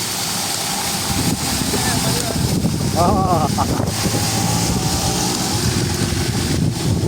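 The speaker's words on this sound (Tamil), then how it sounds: "சரியான காற்றுடன் கூடிய காலநிலை காணப்பட்டு கொண்டிருக்கின்றது." Steady, heavy wind rushing and buffeting the microphone outdoors, a continuous low roar with faint voices and a brief whistling tone partway through.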